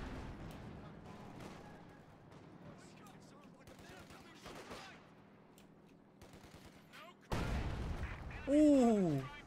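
A detonation explosion in a competitive strategy video game erupts late as a sudden, loud broadband blast, followed by a swooping tonal effect. Quieter battle sounds and voices run underneath before it.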